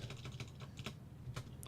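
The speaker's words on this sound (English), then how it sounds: "Let me just type in routes" A computer keyboard being typed on, a rapid run of soft, close key clicks with a short pause near the end, quiet and alone.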